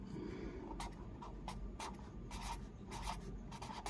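Marker or chalk writing on a board in a lecture room, a series of short scratchy strokes in uneven rhythm, close and fairly soft with no voice over it.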